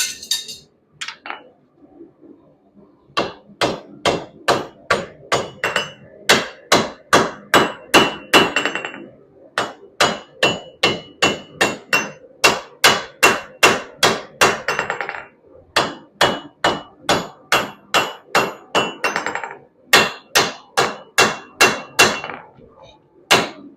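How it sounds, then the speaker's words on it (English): Steady, ringing hammer blows shape an Ulfberht-inspired steel blade, mostly in quick regular bursts with brief pauses between runs, close and loud with a metallic clink. "as you're forging in the silhouette or the outside edge of the blade as it thins out, as well as the distal taper"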